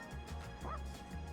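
Koromaru, the dog in Persona 3 Reload, gives a short single bark-like yip, moderately loud over steady low game music, no talk.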